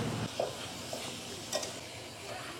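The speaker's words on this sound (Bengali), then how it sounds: "এটাকে একটু সুন্দর করে কষিয়ে নিই" Fish curry with turmeric and chili powder fries in a pan on a wood-fired clay stove, with a continuous loud sizzle and a few soft stirring knocks, with no talk.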